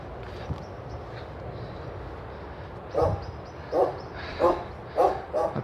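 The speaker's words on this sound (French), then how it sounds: "il y a un chien là-bas" A dog barks in the distance outdoors amid reeds and brambles, a series of five or six short barks spaced about a second apart, moderately faint over a steady background hiss.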